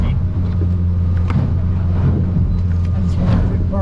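A Stabicraft 2050 Supercab aluminium boat's outboard engine idles with a steady low rumble while the hull slogs through rough, wind-whipped water, loud and constant with splashes throughout.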